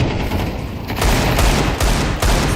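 Rapid, dense gunfire spam from a shooter video game during a competitive esports match, loud and continuous bursts of overlapping shots with no talk.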